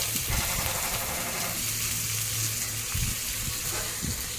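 Chopped onion and tomato sautéing in a pan for egg bhurji, a continuous close sizzle with intermittent scraping and stirring thumps, no talk.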